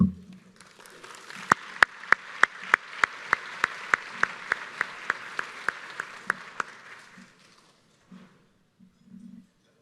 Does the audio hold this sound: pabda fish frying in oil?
no